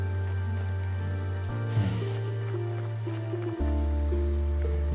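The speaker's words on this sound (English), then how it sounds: "Why is it always raining?" Rain in the video game Graveyard Keeper patters steadily as a soft, continuous spatter, layered over droning background music with shifting low tones.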